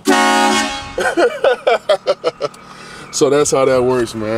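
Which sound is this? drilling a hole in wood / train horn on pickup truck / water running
train horn on pickup truck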